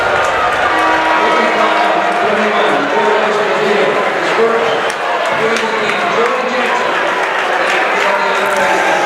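A Portland High School crowd at a boys' varsity basketball state championship game reacts to a foul with a loud, steady roar of voices, clapping and shouting, with close talk mixed into the dense noise.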